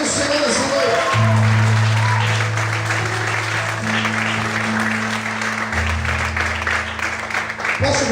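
A church congregation bursts into loud, sustained applause during an evening service, the dense clapping layered over steady held music notes and a murmur of voices.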